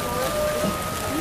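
Steady rain falling outdoors, a continuous hiss with a faint low hum underneath, while people talk at a distance.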